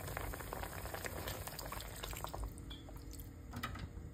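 Water pouring into a cooking pot of cut pork, a steady splashing and gurgling fill that runs continuously at moderate level with no voices.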